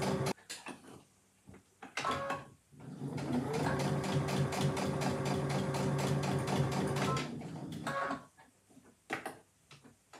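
A sewing machine stitches a fabric pot holder, its motor whirring in a steady run of rapid needle ticks for several seconds, framed by slower clicks and stops at either end, close and clear with no talk.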